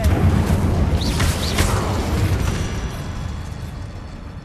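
The Incendio fire spell cast in the Harry Potter video game Hogwarts Legacy: a loud, roaring burst of flame that surges at once, then slowly fades away over a few seconds.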